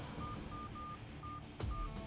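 Rapid beeping dial tones punch in one after another as a phone number is keyed in during a tense Hindi-dubbed action movie scene, followed by a brief burst of louder noise near the end.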